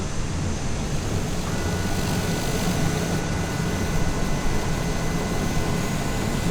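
Aircraft engine drone and rushing wind during an ILS landing in the video game Microsoft Flight Simulator 2020, a steady loud broadband roar with a faint tone above, no talk.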